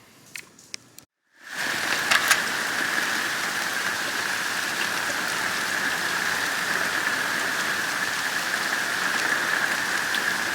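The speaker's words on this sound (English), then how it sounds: "Rain's coming down pretty hard back here." Heavy hurricane rain pours down outside a double-wide mobile home, starting abruptly after a brief quiet moment and then holding as a loud, dense, steady hiss with scattered drips and spatters.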